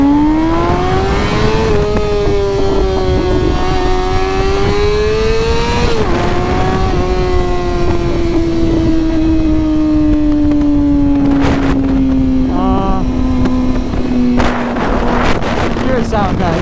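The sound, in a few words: motorcycle with new exhaust revving on ride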